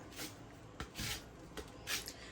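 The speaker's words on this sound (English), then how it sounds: "You're going to take this part of your grater and you're just going to lightly graze the lemon." Short rasping strokes of a lemon grazed lightly across a grater, three or four soft scrapes spaced about half a second to a second apart, close and quiet, with no talking.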